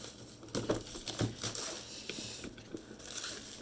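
A cardboard box holding a TP-Link Deco M4 mesh WiFi system is torn open up close, with quiet ripping, crinkling and crunching in short irregular bursts and no talking.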